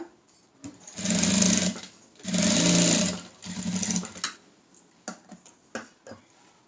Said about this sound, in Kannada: ನಾನು ಸ್ಟಿಚ್ ಹಾಕೋದು ಇಲ್ಲಿ ಕಾಲಿಂಚು ಇಂಚು ಬಿಟ್ಟು ಹಾಕ್ತೀನಿ